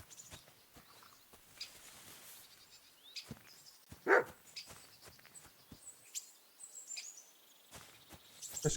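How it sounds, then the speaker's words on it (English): A dog barks in the medieval video game Kingdom Come, faint and distant, with a single louder bark near the middle amid soft outdoor ambience of insects and birds. "Barking."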